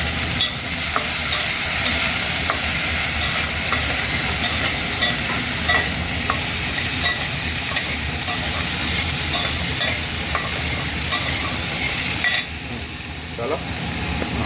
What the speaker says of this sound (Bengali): তো চলো, এটাকে একটু ভেজে নিই।